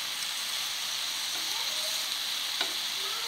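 Chicken tikka frying in a pan, a steady close sizzle with faint hiss and crackle throughout, no voices.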